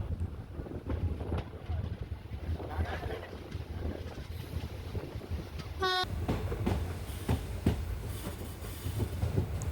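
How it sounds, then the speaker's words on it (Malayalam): A Kollam–Alappuzha passenger train pulls slowly out of Ochira station, a continuous rolling rumble heard from on board with a brief horn-like tone midway and soft voices in the background. "ഓച്ചിറയിൽ നിന്നും അങ്ങനെ ട്രെയിൻ പതുക്കെ എടുത്തു"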